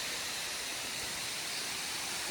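A waterfall at Padubidri roars as a dense, steady rush of falling water, loud and continuous without a break.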